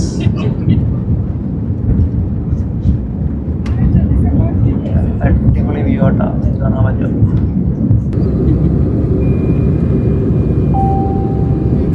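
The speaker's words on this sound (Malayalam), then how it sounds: "ഫ്ലൈറ്റ് പൊങ്ങാൻ പോവാണ്" A passenger plane taking off, heard from inside the cabin: a loud, steady low engine roar runs throughout while a person talks over it, with a brief tone near the end.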